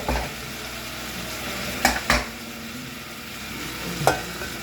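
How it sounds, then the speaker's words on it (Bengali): Vegetables fry with mustard seeds, cumin, bay leaf and dried chilli, giving a constant close sizzle with three sharp stirring or utensil scrapes against the pan, and no one speaking. "সর্ষে জিরে ফোড়ন, তেজপাতা, শুকনো লঙ্কা ফোড়ন দিয়ে আমি সবজিটাকে ভেজে নিচ্ছি"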